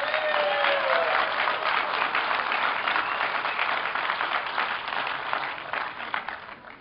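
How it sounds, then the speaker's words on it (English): A Tea Party anniversary crowd applauds a U.S. congressman outdoors, a sustained wash of clapping that tapers slightly toward the end. "how about one more round of applause for my U.S. Congressman, Mr. Bobby Schilling"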